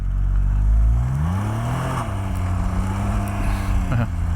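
A motorcycle engine revs and changes pitch up and down, rising and falling in steady sweeps, loud and close with rushing wind noise and no talking.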